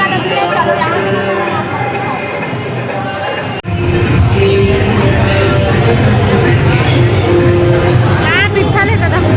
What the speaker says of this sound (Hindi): प्राचीन मानसी गंगा मंदिर यहाँ बहुत ज्यादा भीड़ है।